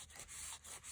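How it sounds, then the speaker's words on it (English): A rag rubbing down a paper craft folio, three soft sweeping strokes in a steady back-and-forth rhythm, close and faint with no talking. "want to rub it down good"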